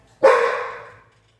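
A dog barks once, a sharp, moderately close woof in an otherwise quiet home kitchen that fades quickly to silence.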